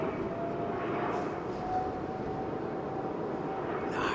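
A Turkish Airlines Boeing 777 at London Heathrow climbs out steeply after a touch and go, its jet engines a steady, broad, distant roar that holds without a break.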